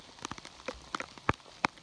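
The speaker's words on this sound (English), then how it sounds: "So I'm walking in the rain" Rain during a spring hike, with scattered close raindrops ticking irregularly on a nearby surface, light and uneven, with no talking.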